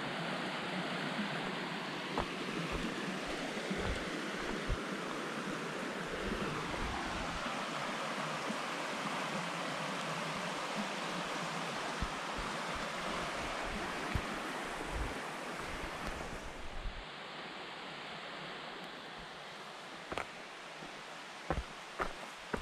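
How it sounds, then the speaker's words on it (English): A river flows close by on the Ice Age Trail, giving a continuous broadband rush of water that is fairly steady, with a few brief clicks and knocks near the end. "The Ice Age decided to put me really close to the river."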